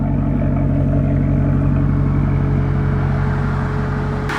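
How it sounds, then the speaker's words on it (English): A Maserati GT's engine and exhaust on a mountain drive, a loud, close, steady droning rumble with a deep rhythmic pulse, cut off abruptly at the end. "Exhaust note."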